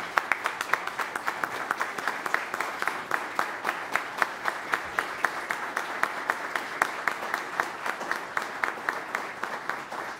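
Steady applause from a crowd at a formal city council session, many hands clapping densely and evenly for about ten seconds with no voices over it.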